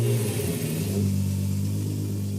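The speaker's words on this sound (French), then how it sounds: "Si le moteur vrombit bien dans tout l'atelier" A Volkswagen Golf 3 VR6 engine runs in a workshop, a strong steady rumble with a brief rise in revs at the start before it settles into an even, close hum with no talk.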